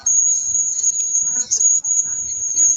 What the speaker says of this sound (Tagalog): natural lang yan sa ating lugar na may kuliglig